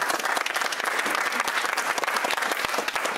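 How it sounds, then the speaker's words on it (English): Dense, loud applause from a studio audience on a TV game show, steady and continuous throughout with no talking over it. "Big round of applause for Lee and John."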